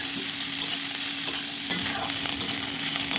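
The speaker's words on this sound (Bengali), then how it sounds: "এরপর পেঁয়াজ কলি ও ক্যাপসিকাম কুচি দিয়ে আবারও হালকা ভেজে নিচ্ছি" Spring onions and chopped capsicum frying in a pan with light oil, a steady close sizzle under occasional stirring scrapes, no talk.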